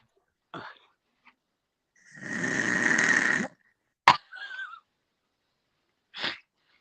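A long rasping snore, loud and close, surrounded by brief breathy snorts and sniffs in an otherwise silent room.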